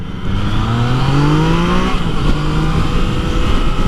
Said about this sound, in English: That was a roll, a second gear power wheelie.